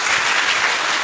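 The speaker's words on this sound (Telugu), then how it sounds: "యేసు ప్రభువే మా దేవుడు అన్నవాళ్ళు గట్టిగా చప్పట్లు కొట్టండి" A church congregation claps loudly during a Sunday sermon: dense, steady applause that fills the whole moment without a break.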